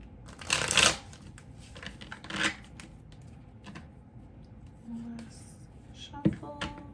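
A tarot card deck being shuffled by hand, with a loud riffling burst near the start and a second shorter flurry, followed by quieter card handling and a light tap.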